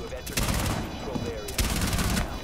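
Gunfire in a video game, with dense bursts of shots and rattling fire that come in two loud clusters over a constant noisy game backdrop, with some voice chat mixed in.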